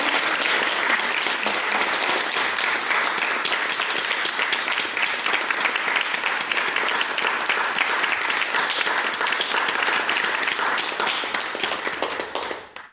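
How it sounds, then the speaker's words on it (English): Sustained audience applause closing a theatre panel discussion, dense steady clapping from a crowd for the whole span, fading slightly at the very end. "I just wondered if we could give Professor Lee and Amy a round of applause."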